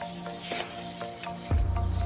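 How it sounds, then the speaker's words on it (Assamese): Chicken frying with spices is stirred in a pan, giving a soft sizzle broken by scraping strokes and light knocks, then a louder rumbling burst near the end, close and without talk. "এইবাৰ মই মছলাখিনিৰ লগত চিকেনখিনি ভালকৈ ভাজি লওঁ"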